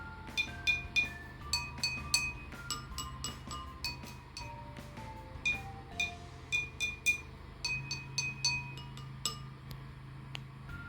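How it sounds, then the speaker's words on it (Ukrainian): Glasses filled with different amounts of water are tapped one after another, giving a quick series of clear bell-like clinks at varied pitches, close and fairly quiet, forming a simple tune. "При постукуванні на склянку йде вібрація, яка проходить крізь воду та відповідає за певний звук, відтворюючи його"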